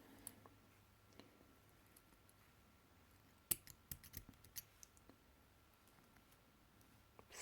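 Small wire cutters snip while someone makes sparkly party earrings by hand, giving a scattered run of quiet, sharp clicks and snaps close by in a hushed room.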